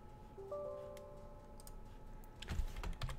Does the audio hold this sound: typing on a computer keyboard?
yes